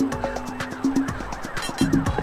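Police sirens wail in the video game The Getaway, wavering tones layered with rhythmic engine and impact noise, loud and close with no talking.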